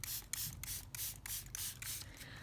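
Coffee is sprayed onto background paper in a series of about eight short, hissing bursts in a steady rhythm, close by and alone.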